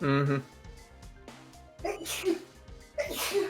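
A single sharp sneeze close to the microphone, followed by a person talking softly.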